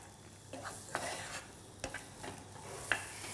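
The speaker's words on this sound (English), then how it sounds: "We want to cook these for a couple of minutes so that the onion becomes translucent" Onion softens in a pan for mince lasagne sauce, with a low steady sizzle and a few soft stirring scrapes and knocks close by.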